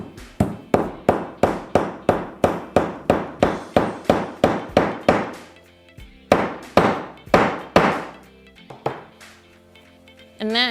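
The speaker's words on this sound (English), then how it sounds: "So I'm gonna hammer this rivet because this D-ring is down here" A hammer sets a metal rivet through a leather strap and D-ring on a bag, landing a rapid, even run of sharp, ringing strikes, then a pause and a few slower, separated blows, close and loud.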